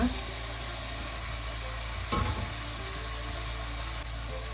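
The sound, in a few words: chopped mushrooms added to pan, sizzling and stirred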